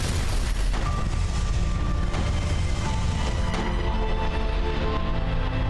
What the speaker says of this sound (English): Apparently there has been an explosion at the Joe Rogan studios.